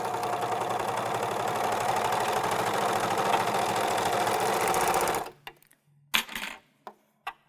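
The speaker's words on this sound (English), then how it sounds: "let's run a piece of fabric through there and see what that does to my stitch" An American Home serger runs a piece of fabric through in a loud, steady, rapid mechanical whir for about five seconds, then stops, followed by a few sharp clicks and knocks.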